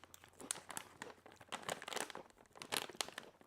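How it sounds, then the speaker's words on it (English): A resealable zip-lock snack packet is handled up close, producing steady crinkling and crumpling of plastic with a few sharper tearing rustles, and no voices. "It's got a zip lock thingy,"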